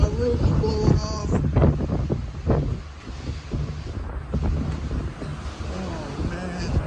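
Strong Hurricane Zeta wind roars and buffets a microphone outdoors in the New Orleans area, a loud continuous rushing with gusty surges, while people exclaim and talk over it.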